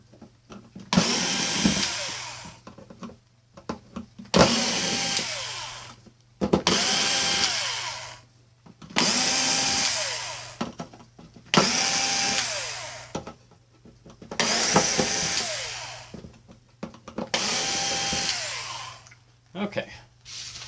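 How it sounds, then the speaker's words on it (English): A power driver whirs in repeated bursts while backing screws out of a neon clock, about eight separate runs of a few seconds each, with short pauses between them and a steady low hum underneath. "I'm going to use a power driver just because it's a lot quicker"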